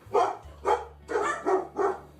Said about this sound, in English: while the dogs are starting to bark, they're barking because the cats come around this time of the night